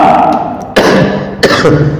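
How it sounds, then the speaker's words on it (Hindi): A single person coughs sharply several times in a row, loud and close, with short gaps between the bursts and no speech. "सॉरी अब थोड़ा खांसी हो गया।"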